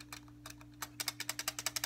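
Keys clicking on a Mamba Snake K680 keyboard, a run of sharp close clicks that speeds into an even, rapid rhythm near the end.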